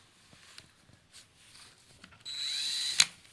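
A 40-grit flap wheel on a power tool bites into one side of a camp axe hatchet. After quiet handling noises, a loud, steady whining grind starts abruptly near the end and runs for about a second with a sharp peak.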